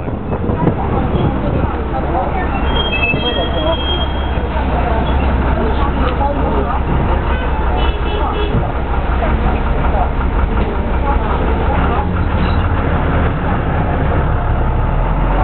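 City bus 119 rumbles past on a street, a loud, steady low engine drone and road noise that fills the whole stretch without letting up, with a faint voice talking over it.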